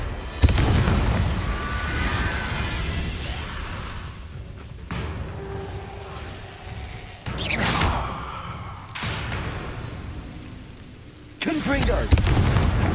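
Confringo fire spells bursting in Hogwarts Legacy combat, a run of heavy booming explosions and whooshes, loud and separated by brief lulls, with character voices heard over the action.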